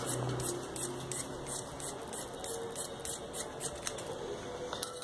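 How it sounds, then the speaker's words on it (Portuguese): Scissors snipping around fabric pieces for a handmade baby sheep toy, a steady run of close, crisp cuts repeating every half second or so, with no talking. "vou até recortar um pouco em volta"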